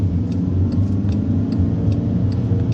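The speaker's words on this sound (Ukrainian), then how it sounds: "перша передача нітраль вмикаю правий показчик повороту, і зараз буде рушання під горку" A manual-transmission car pulls away uphill in first gear, its engine giving a steady, loud low rumble with a faint regular ticking from the turn signal, heard from inside the cabin without talking.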